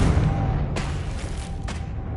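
Confringo blasting spell explosions in Hogwarts Legacy: two dull, booming bursts about a second apart, rising out of a steady low rumble, with no voices.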